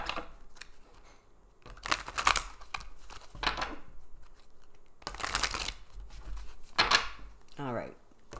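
Cards are shuffled in several quick riffling bursts, crisp and close, with pauses between them and a soft voice at moments.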